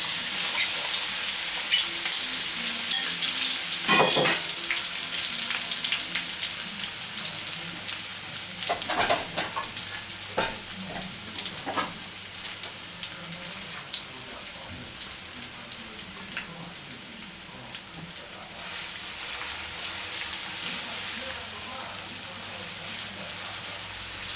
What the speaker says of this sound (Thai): ใส่น้ำมันแล้วเราก็ใส่กระเทียมเลย